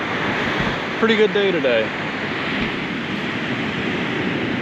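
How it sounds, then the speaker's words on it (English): Ocean waves surging in and out at the spouting horn near Yachats on the Oregon coast, a constant close, loud wash of surf with a person speaking briefly over it. "The waves are coming in and out."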